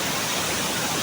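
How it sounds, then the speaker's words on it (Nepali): Pokali waterfall in Likhu rural municipality, Okhaldhunga, Nepal, a large falls, gives a steady broadband roar of rushing water, close and constant through the short moment with no voices. "यो ओखलढुङ्गा जिल्लाको लिखु गाउँपालिका अन्तर्गत पोकली झरना हो।"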